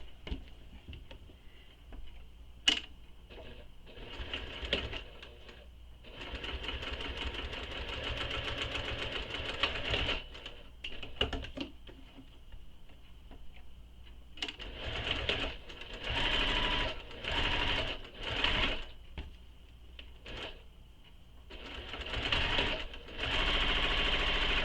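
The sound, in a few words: sewing machine sewing long edges of handbag connectors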